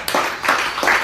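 Congregation clapping during a church service, three quick bursts of applause close together, fairly loud with no talk.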